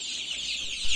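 Purebred KUB-2 chickens, 21 days old, are being vaccinated with ND La Sota by oral drops. They give a continuous, faint, high chorus of cheeping and clucking, with one slightly louder moment near the end.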